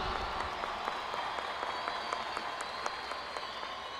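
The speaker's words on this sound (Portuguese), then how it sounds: "Aplauda o seu arcebispo, tá?" A congregation at a national Eucharistic Congress youth Mass applauds its archbishop with steady, moderate clapping that carries evenly throughout, with no voice over it.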